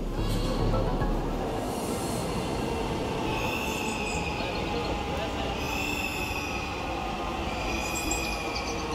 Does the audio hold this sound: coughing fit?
no